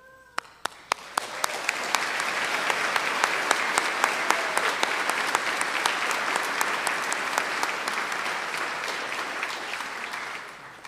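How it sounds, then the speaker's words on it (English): Audience applause for the Chatfield High School class of 2024 at their commencement: a few scattered claps open, then the crowd swells into dense, steady clapping that holds loud throughout before easing slightly at the end. "I ask that you please limit your applause until we've read the names of each speaker"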